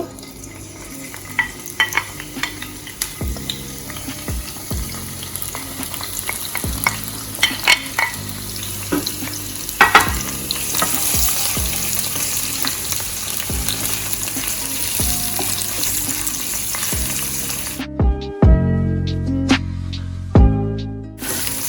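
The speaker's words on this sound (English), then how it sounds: "I have some oil right here, small amount of cooking oil. I'm gonna be sauteing my vegetables." Vegetables (sweet pepper, onion, garlic, scallion) sauté in a small amount of cooking oil for saltfish, a continuous close sizzle broken by repeated scrapes and clinks of stirring, with a sharper burst of frying near the end.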